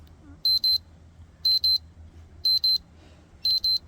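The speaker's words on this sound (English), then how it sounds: "it says voice, but what that sounds like is a beeping noise" Beeping alarm from a dog GPS tracker: four paired high-pitched electronic beeps, evenly spaced about once a second, clear and close over a faint low background hum.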